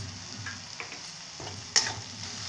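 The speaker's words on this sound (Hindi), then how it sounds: "थोड़ी देर तक भून लेंगे मध्यम आंच में" Onions, ginger, garlic and green chillies sizzling steadily in a hot pan over medium heat, with a few soft stirring scrapes and a brief clink, no voices.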